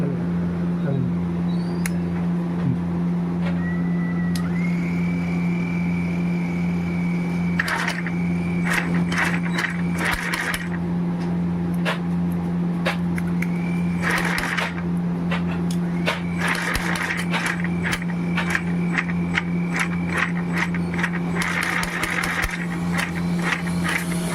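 An agarbatti (incense stick) making machine runs with a constant low drone and a strong hum, overlaid by rapid repeated mechanical clicks and clacks and rising whining tones, while voices are heard in the background.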